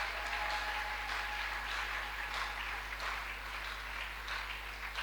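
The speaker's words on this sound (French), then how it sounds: "basakoli babetela nkolo maboko." A church congregation claps steadily in applause, a dense continuous patter of many hands filling the room at moderate loudness with no clear pauses.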